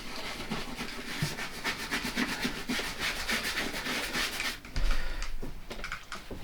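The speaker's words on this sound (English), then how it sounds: "Give it a good rubbing all over. Getting all the little nooks and crannies with this." Walking boots being wiped and rubbed all over with a damp soap, a steady close scrubbing and rubbing texture that continues through with a brief heavier scrape near the end; no talking.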